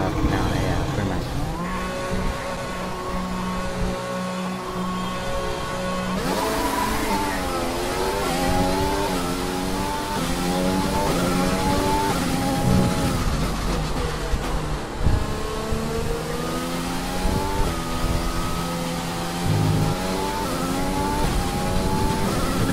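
An F1 car in F1 2020 pulling out onto the track in wet conditions, its engine revving steadily and shifting up through the gears, loud and continuous with some talk over it.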